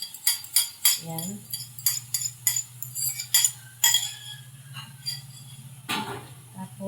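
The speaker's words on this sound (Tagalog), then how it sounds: "Haluin lang." Bitter gourd (ampalaya) being stirred in a pan, with repeated clinks and scrapes of a metal utensil in an uneven rhythm, close and clear over a low steady hum, with brief speech partway through.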